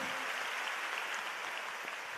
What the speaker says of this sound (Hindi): लक्ष्य के लिए एक बारी जोरदार तालियां।